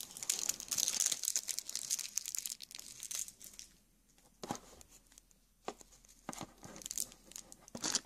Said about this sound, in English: There's some plastic off.